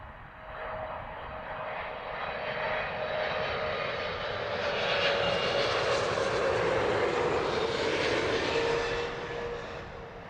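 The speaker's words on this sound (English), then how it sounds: "Lovely Thai Airways 777 there." A Thai Airways Boeing 777 jet lands on runway 27 left at Heathrow, its engines roaring in a steady drone that swells to a peak as it passes overhead and then slowly fades.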